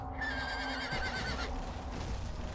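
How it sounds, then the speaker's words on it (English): A stock horse neigh sounds in God of War II: one loud, close, shrill whinny that wavers and fades, set over steady game background noise, with no speech. "Stock sound horse noise."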